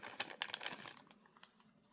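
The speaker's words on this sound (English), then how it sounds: "I put that into the plastic bag." Brief crinkle and rustle of thin plastic as model kit transparencies are slipped into a plastic bag, a few close, quiet crackling bursts that fade to soft handling noise, with no talk.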